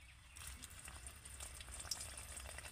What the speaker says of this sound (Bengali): এবার আমি এই মাছের দাগাগুলো দিয়ে দেব ভাজার জন্য।